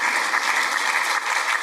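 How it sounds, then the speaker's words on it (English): Audience applause after a lecture on ancient Rome's monarchs and monuments: steady, dense clapping from a crowd, loud and continuous throughout with no pause. "Huge applause."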